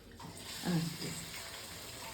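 Onions sizzle faintly in oil in a pan for a tamarind fish curry, a soft, even hiss with a slight swell partway through.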